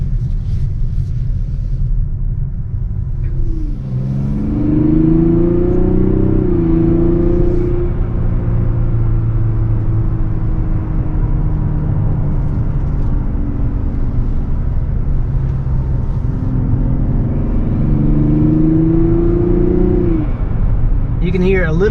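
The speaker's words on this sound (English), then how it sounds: "You can hear a little bit of the turbo, but that inline 6-cylinder sound is harmonious." A 2024 Mazda CX-90 3.3 turbo inline six accelerates from inside the cabin, a smooth low engine drone rising through two pulls with a faint turbo whir, steady and moderately loud.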